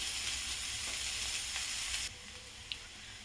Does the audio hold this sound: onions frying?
yes